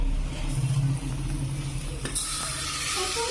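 Half a kilo of chicken hits a hot pan for a curry, giving a steady broadband sizzle with a low rumbling hum beneath, and a sharper burst of frying noise partway through.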